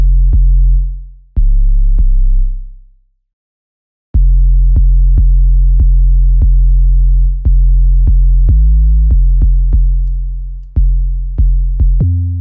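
Synthesized trap 808 bass kicks repeat in a loose pattern, each a deep booming sine-like thump with a long sustained decay, some notes shifting pitch, loud and alone with no talking.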